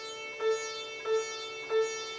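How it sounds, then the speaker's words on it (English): Three plucked sitar notes at a steady pace, each struck over a continuous shimmering drone of ringing sympathetic strings. "But the beauty of the sitar is that because of this sympathetic strings"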